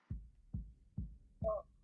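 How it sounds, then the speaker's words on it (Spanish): Heartbeat-like thumping in a song, four soft low thuds at an even, slow pulse, the last overlapping a brief sung or hummed tone, faint and alone. "Parece un latido."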